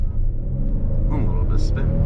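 A 2022 Hyundai Palisade Calligraphy launches hard with a little wheel spin, a loud steady engine rumble under people talking in the cabin.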